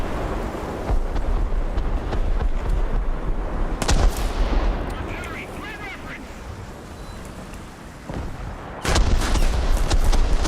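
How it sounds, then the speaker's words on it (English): Gunfire in a video game is aimed at the player: a steady rumbling battle din carries sharp loud reports, one near the middle and a heavier burst near the end. "somebody's firing at me"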